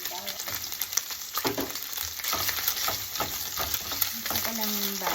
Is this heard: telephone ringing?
no